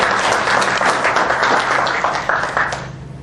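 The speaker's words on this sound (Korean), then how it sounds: "큰 박수 주십시오." An audience at an economic policy lecture gives a warm round of applause, many hands clapping steadily and fairly close, tapering slightly near the end.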